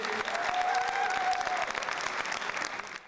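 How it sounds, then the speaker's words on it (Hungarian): Teams applaud one another before a First Lego League robotics contest, steady dense clapping from a crowd in a hall for about three seconds, fading slightly at the end. "A Fair verseny előtt tapssal köszöntötték egymást a csapatok."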